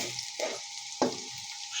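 Chopped onions and green chilies sizzle and fry in a pan, with a few soft stirring scrapes breaking the steady hiss.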